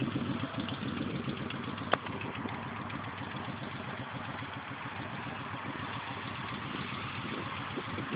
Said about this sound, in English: that's a nice motorcycle